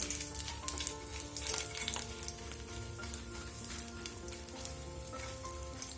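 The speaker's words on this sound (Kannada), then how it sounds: "ಮೆಣಸು ಮತ್ತು ಬೆಳ್ಳುಳ್ಳಿ ಸ್ವಲ್ಪ ಫ್ರೈ ಆಗಬೇಕು" Chili and garlic frying in a pan for a Mangalore-style horse gram chutney, a steady close sizzle with crackling pops running throughout, no voices.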